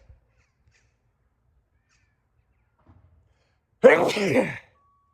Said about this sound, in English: There we go, back now, just after a sneeze.